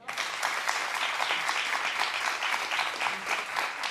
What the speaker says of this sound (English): Clap if you will.